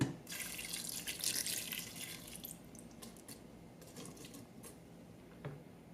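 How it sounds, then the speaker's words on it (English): Lemon juice mixture is poured into an Aroma 20-cup digital rice cooker, a soft trickle and patter of liquid that starts bright and then thins into scattered drips, quiet and close. "Pour in the lemon juice mixture."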